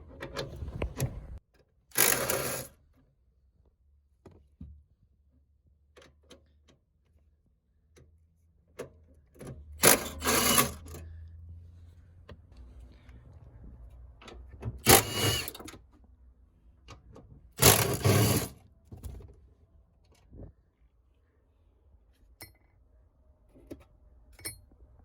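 Tool work on the hybrid battery of a 2013–2015 Lexus ES300h, a 12mm socket ratcheting out bolts in four short, sharp bursts of clicking among quiet pauses and light handling noises.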